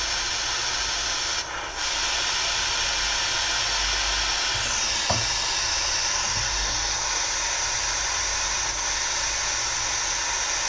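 Steady torch hiss runs throughout at close range while jewelry links are soldered, with a brief sharp click or tick near the middle and no talking.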